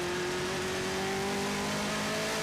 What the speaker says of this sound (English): The cars blast off to the first corner, contact already.